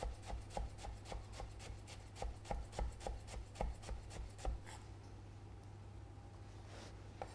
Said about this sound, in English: all we're going to do to get it nice and fine is just chop through the shallot